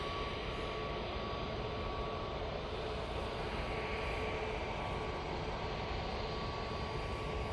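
Etihad Airbus A350-1000 passing overhead near Manchester Airport, a steady broadband jet rumble with a thin constant tone, distant and even, with no voices.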